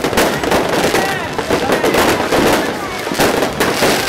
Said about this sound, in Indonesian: akan menyaksikan letusan petasan yang akan menandai berakhirnya tahun 2019